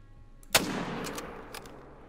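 A single sharp rifle crack from a hunting video game, aimed at an animal, rings out once, loud and close, then trails off into a long rolling echo with no talk over it.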